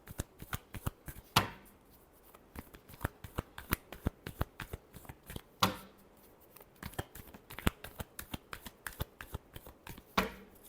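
Tarot cards shuffled by hand, close and quiet, giving a steady run of crisp riffling snaps with a few louder slaps where the deck is squared, and no talking.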